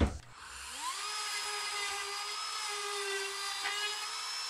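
A steady high-pitched drill whine as a 1.5-inch spade bit bores holes in wood, rising quickly to speed and holding a continuous tone, loud and close, with no talking.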